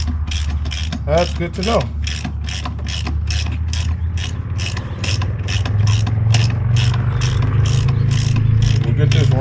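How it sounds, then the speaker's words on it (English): A ratchet wrench tightens 5/16 bolts on a phone mount for a Can-Am Spyder, giving rapid, even clicking strokes up close that continue throughout, with a brief spoken remark near the start. "We'll get this wrench down."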